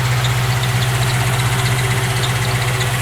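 A 600HP Ford Mustang engine idling up close, a loud, steady low rumble with constant vibration throughout and no talking.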